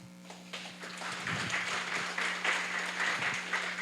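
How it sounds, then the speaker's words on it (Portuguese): A church congregation breaks into applause, the clapping swelling from quiet to a full, steady roar over a low sustained tone and holding for a few seconds. "Uma salva de palmas para Jesus."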